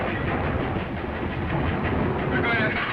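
A moving train rattles steadily along its rails, a dense continuous rumble and clatter filling the whole span, with voices faintly mixed in.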